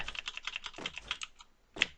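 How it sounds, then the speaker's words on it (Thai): A computer keyboard types in a quick run of close, crisp key clicks, then pauses and ends with one final sharper keystroke. "เสียงจะรำคาญเสียงคีย์บอร์ดพี่นิดนึง"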